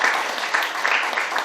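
An audience at a political school lecture on migrants and care work gives a brief round of applause, an even wash of many hands clapping without pause.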